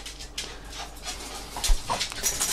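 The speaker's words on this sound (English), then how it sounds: "This is one of my 2 cute little dogs" A small pet dog pants close by, quick soft breathy puffs with a faint whimper, fairly quiet and alone without talk.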